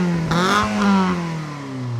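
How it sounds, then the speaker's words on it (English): Modified Toyota Celica TRD fitted with a suppressor, its engine revved in a short burst that climbs in pitch and then drops back, loud and close with a slight rattle. "Just rev the engine for a little bit."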